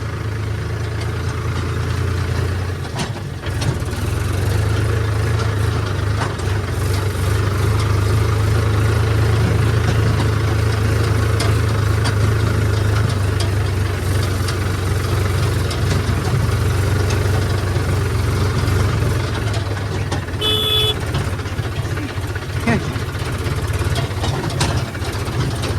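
A Swaraj 963 FE combine harvester engine idles steadily nearby, a constant low throbbing drone that continues unchanged, with a brief beeping tone near the end.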